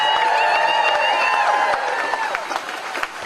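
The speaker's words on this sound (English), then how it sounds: "Let's give her a great round of applause." Crowd at a voting rights rally on the Texas capitol grounds breaks into sustained applause and cheering, a dense, fairly loud wash of clapping and voices that eases slightly toward the end.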